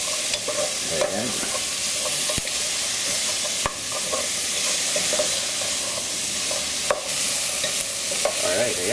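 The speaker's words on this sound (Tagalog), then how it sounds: "Itutuloy lang natin yung paggisa dito hanggang sa tuluyan na lumambot." Onion and celery sauté in a pot for chicken sopas, with a steady loud sizzle and hiss and repeated stirring scrapes throughout, no talking.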